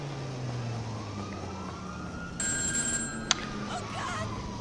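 A police siren in GTA Online wails, sweeping up and down under a steady hum, with a bright electronic tone and a sharp click partway through.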